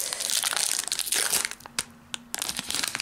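Plastic protective sleeve crinkling as a Pokémon card is slipped inside, a close, dense crackling rustle that thins into sparse crinkles before picking up again.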